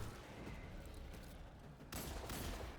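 Rocket fire and heavy gunfire against an ogre in Destiny 2. A steady rumble of shots and blasts is followed by a louder burst of impacts near the end.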